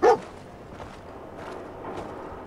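Dogmeat, the dog companion in Fallout 4, gives one short bark at the very start, then low game ambience with faint creaks carries on quietly.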